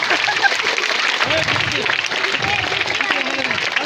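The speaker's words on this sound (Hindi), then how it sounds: "तालियां बजा दें, जोरदार तालियां" An audience claps and cheers at a biscuit-eating contest, lively, uneven applause close by with voices calling out over it.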